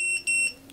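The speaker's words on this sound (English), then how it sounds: "If we wait for this to beep, just like that," A DYS ELF 83mm brushless micro quadcopter gives its arm-ready signal: two loud, clear electronic beeps in quick succession, close by, with a soft tone trailing after.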